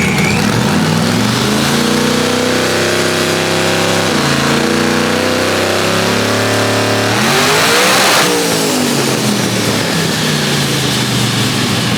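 A car engine on a dyno revs hard and continuously, rising in pitch through the gears, loud and close with a roaring, straining tone.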